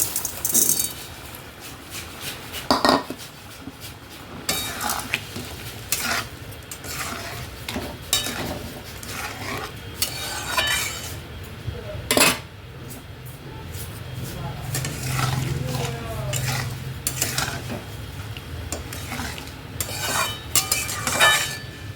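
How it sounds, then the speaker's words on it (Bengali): Spoon stirring chutney with cashews, raisins and sugar in a pan: repeated close scraping and clinking strokes against the metal over a soft sizzle, irregular and fairly loud. "আর আমি এখানে নিয়ে নিয়েছি কাজু কিশমিশ চিনি, একবারে দিয়ে দেব।"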